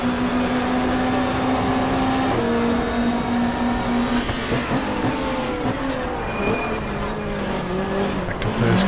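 Race car engine in GTR2 recreating the 1995 Australian Super Touring Championship at Symmons Plains, loud sustained revving with pitch sweeps as gears change, dense and continuous with tire noise and possible faint commentary beneath.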